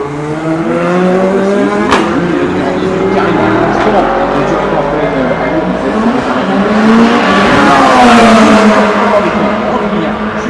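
Porsche and Toyota prototype race cars at the 2015 24 Hours of Le Mans: loud engine roars rise and fall as cars pass, with a commentator talking over the noise.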